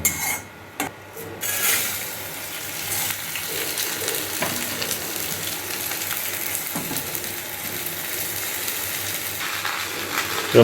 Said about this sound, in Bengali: ফোড়নটা ভাজা হয়ে গেছে, এবার সামান্য একটু চাল দিয়ে নেড়ে যে পাত্রে করব সেই পাত্রে আমি ঢেলে দেবো